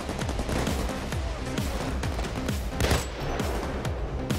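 Rapid automatic gunfire from the video game Payday 2 rattles in continuous bursts for several seconds, with repeated shots blending into a dense fusillade and no talking over it.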